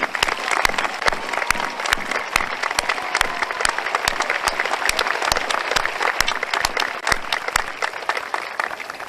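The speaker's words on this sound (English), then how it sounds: "we give you a much-deserved round of applause" Sustained applause from a large audience at a Tullahoma High School ceremony honoring faculty and staff, dense, even clapping holding steady for about nine seconds with some distinct sharper claps cutting through.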